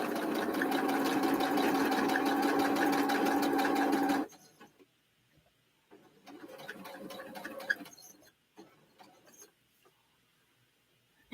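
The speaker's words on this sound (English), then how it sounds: "Okay, it's gonna sew." A sewing machine stitches overlapping fabric pieces in a fast, even mechanical whir, then stops; short bursts of handling and lighter sewing noises follow, with birds cooing faintly in the background.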